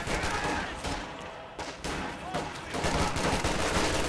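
Sustained bursts of MG42 machine-gun fire in the Company of Heroes 2 video game, dense rattling gunfire with explosions mixed in, loud and continuous with only a brief dip midway.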